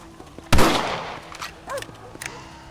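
A single loud rifle shot from a Red Dead Redemption cutscene cracks out near the start and rings off into a long tail, followed by faint scattered clanks and brief tonal chirps.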